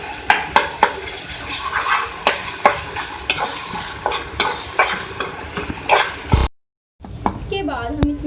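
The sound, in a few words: ginger garlic paste frying with beef in a pan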